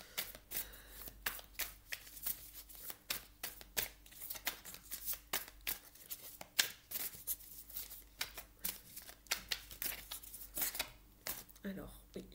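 Tarot cards being shuffled over and over in a steady stream of riffling, flapping bursts, close and continuous throughout, with a voice talking intermittently underneath.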